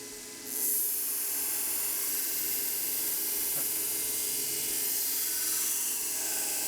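A kitchen knife pressed against a running variable speed belt sharpening machine, a continuous loud high-pitched grinding whir that starts abruptly and holds steady throughout, with no talking.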